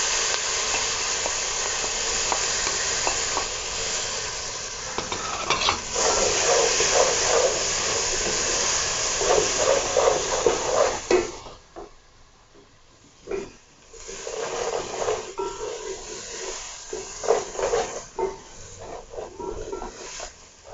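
Tomatoes and green chillies fry in a pan for aloo gobi, giving a steady hiss and sizzle with brief quiet gaps and occasional stirring scrapes, close and moderately loud with no talk.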